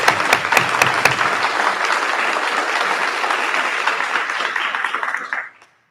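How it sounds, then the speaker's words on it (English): Sustained crowd applause at an elementary school ribbon cutting ceremony, a few sharp claps standing out early, steady clapping for about five seconds before cutting off abruptly. "Please join me in applauding all of these awesome people who made this vision a reality."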